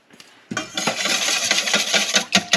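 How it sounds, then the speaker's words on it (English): A whisk scrapes and clinks against a bowl while mixing butter and vanilla for a vanilla cake, quick irregular metallic taps and swishes starting after a brief pause and continuing closely and fairly loudly. "Now we're going to whisk this together."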